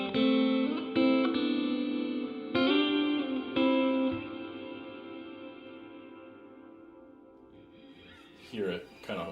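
Electric guitar played through a Donner delay and reverb pedal, loud strummed chords ringing out with a long reverb tail that slowly fades, a few fresh strikes early on and a brief noisy burst near the end.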